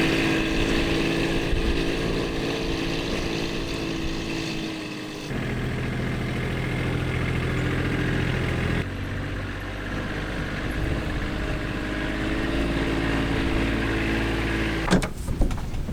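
An off-road vehicle engine drones steadily and loudly while climbing a trail, its tone shifting a few times as the load changes, with a couple of knocks near the end and no talking.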